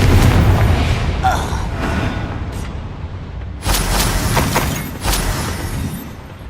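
Confringo blasting spells in the Hogwarts Legacy video game, heavy booming explosions, one at the start and two more bursts later, with rumbling decay between.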